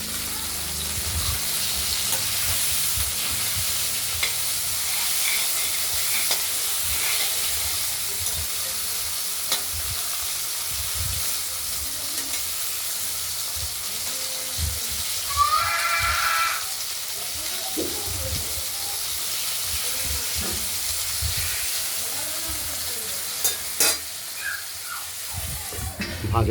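Taro pieces frying in oil with turmeric and salt hiss in a steady, continuous sizzle, with occasional scraping stirs and brief clatters of the spoon; a voice speaks faintly now and then.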